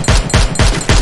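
Four loud, rapid gunshots in quick succession with a punchy, booming low end, close and forceful, in the mobile video game Free Fire.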